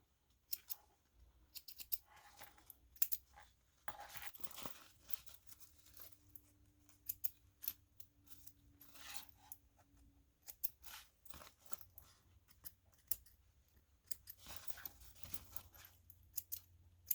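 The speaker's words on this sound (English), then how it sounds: "trim all these extra threads off" Scissors trimming loose threads off a sewn fabric zip pouch, giving scattered quiet snips and light rustles at close range, with brief pauses between cuts and no talking.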